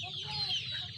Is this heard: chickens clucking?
yes